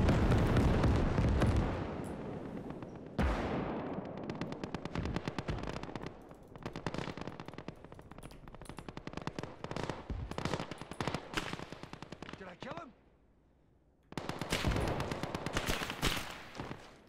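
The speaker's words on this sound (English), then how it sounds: "BM-21 Grad Salvo. Look at the rockets. You can follow them mid air. Impacting." Salvo of BM-21 Grad rockets slamming down in a video game, a dense, loud barrage of rapid crackling blasts and rumbling booms rolling for over ten seconds, with a brief lull before another burst of explosions.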